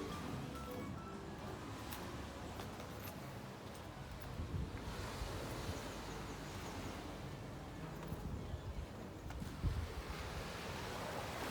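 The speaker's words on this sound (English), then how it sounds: "You can see the sea here." Sea surf breaking along the coast at Speightstown, Barbados, a steady wash of waves with wind noise buffeting the microphone, continuous and fairly close with no talk.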